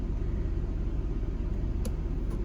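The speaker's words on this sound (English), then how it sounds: "The most worrying is first gear in this thing makes a whine." Steady low rumble of a Nissan 300Z driving in first gear, with a faint transmission whine from the automatic gearbox riding over the engine drone, continuous and close with no talking.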